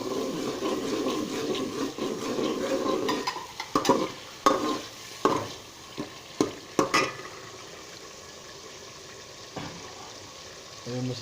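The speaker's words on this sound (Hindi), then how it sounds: "मसाले को थोड़ा उसकी भुनाई कर लेंगे।" Spices such as salt, chilli, garam masala and cumin roast in a pan with a little water for a tadka for black chickpea pulao, giving a steady sizzle, then a run of sharp stirring scrapes and clinks.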